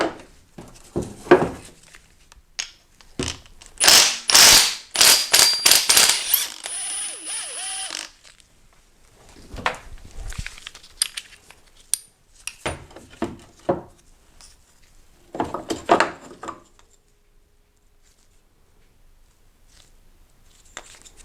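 Metal parts clatter and click as the pulley and bearing on a timing belt tensioner are swapped on a VW Bora 1.6 engine, with irregular bursts of ratcheting and knocking, a dense flurry early on, then scattered taps and pauses.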